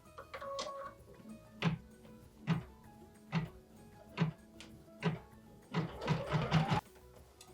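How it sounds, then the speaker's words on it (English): An embroidery machine stitches a decorative roof detail for a Christmas mini bungalow, a steady mechanical tick and thump repeating about once a second, close and moderate, speeding into a quicker run near the end. "Machine step 6 is stitching the decorative detail for the roof."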